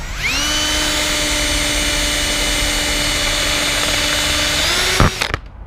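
A power drill whines steadily at constant speed for several seconds while drilling out a Miata soft top part, then winds up briefly and cuts off with a clatter.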